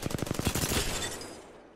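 A rapid burst of automatic gunfire in Apex Legends with a 2x4 scope fitted, about a dozen quick punchy shots in a row before the sound trails into a fading echo.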